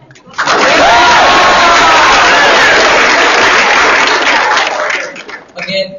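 Loud, sustained applause from an audience fills the space, swelling quickly and holding steady for several seconds before tapering off.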